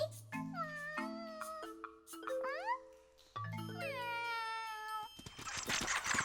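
A cat meows several times in a row, drawn-out and whiny, fairly close, ending in a burst of rustling noise.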